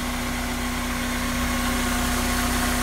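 A supercharged Honda Integra Type R DC5 engine idles nearby with a smooth, steady hum and a constant low drone that does not change.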